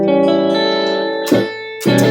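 Electric guitar played through a GarageBand Brit and Clean amp setting: sustained chords ringing loud and alone, then two fresh strums with sharp attacks.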